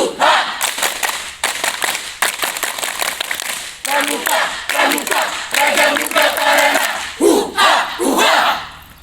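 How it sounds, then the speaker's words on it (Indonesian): Indonesian scouts gathered at a school assembly perform the tepuk pramuka three times, a loud rhythmic group clap of sharp volleys punctuated by a crowd shouting in unison between the clap bursts. "Tiga kali tepuk pramuka."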